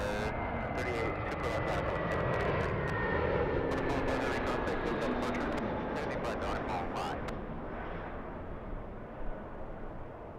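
A plane takes off on runway 24 left at LAX, its engines roaring broadly at a distance and slowly fading. Air traffic control radio talk and crackle run over the roar.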